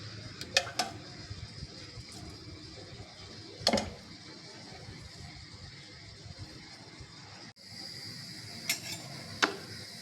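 Mustard seeds, cumin, dried red chillies, asafoetida, urad dal and chana dal fry in hot oil with a steady, close sizzling hiss. A few sharp utensil clinks break in, and nobody speaks.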